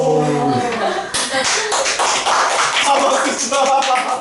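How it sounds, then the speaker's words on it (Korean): A group of middle school students in a math class breaks into a burst of clapping after a brief voice, the claps crowding together into loud, close applause. "박수 쳐."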